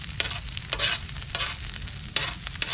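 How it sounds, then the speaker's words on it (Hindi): Onions sautéing in hot oil outdoors give a steady close sizzle, with intermittent sharp stirring scrapes and bursts of crackle. No one talks. "आप प्याज जो है उनको सॉटे कर लें"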